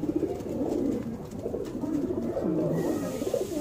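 A pigeon with purple feet, small-boned and bred for flying, gives a continuous low, throaty cooing, near and steady with no talk over it.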